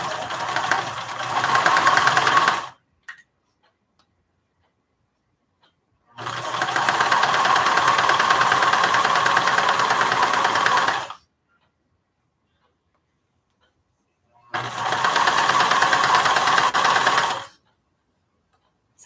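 A sewing machine stitches a project bag in three steady, loud runs of whirring motor and rapid needle clatter, separated by pauses of near silence while the fabric is repositioned.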